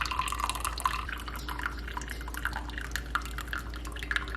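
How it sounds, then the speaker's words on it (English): Coffee drips from a pour-over brewer into a cup below, a close, steady patter of small drops with a faint trickle running underneath. "fill her back up and it will pour out into your cup underneath"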